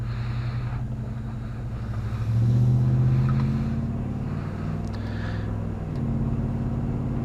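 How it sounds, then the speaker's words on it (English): Interior drone of a 2001 Dodge Durango R/T driving on the road, a steady low engine and road hum with a brief swell of acceleration midway, close and continuous with light wind noise. "time to take the Durango out on the road"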